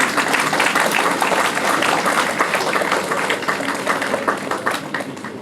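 Sustained audience applause at a gathering of new lawyers, a dense steady wash of many hands clapping that holds loud throughout before easing slightly at the end.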